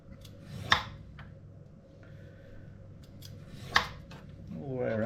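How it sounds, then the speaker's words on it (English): A knife scraping skin off a vegetable, two sharp rasping strokes with softer scratching between them, close and fairly quiet, ending in a rising rustle. "scrape the skin off like that"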